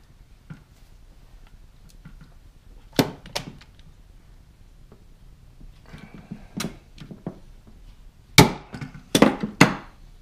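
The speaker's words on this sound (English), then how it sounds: "Just going to use some plain old pop rivets." Plain pop rivets are set by hand into a rebuilt power antenna from a 1987 Buick Grand National Turbo Regal. Sparse faint clicks are followed by a few sharp, close metallic snaps clustered near the end, in a quiet room.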